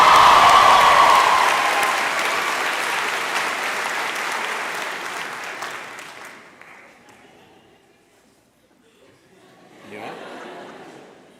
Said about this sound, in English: Give him another clap.